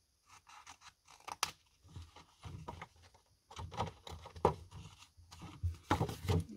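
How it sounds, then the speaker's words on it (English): Scissors cut into the sides of an acetate sheet for a binder drawer, a series of crisp snips and crunchy plastic slicing in irregular bursts, close and fairly quiet, with no speech. "So we're gonna just cut in the sides so we can fold it later."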